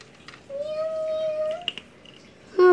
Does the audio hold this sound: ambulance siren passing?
no